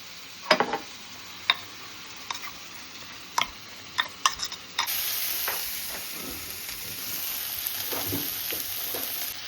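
Garlic with oregano, red chili, paprika and Italian herbs stirred in a pan for Mexican rice: a few sharp spoon taps and clicks first, then a steady loud sizzle of frying with occasional stirring scrapes, no talking.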